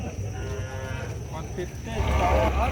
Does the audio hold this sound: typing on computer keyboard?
no